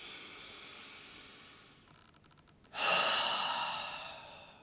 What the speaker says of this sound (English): Taking a deep breath in through the nose.